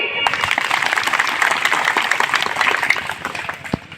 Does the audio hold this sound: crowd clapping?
yes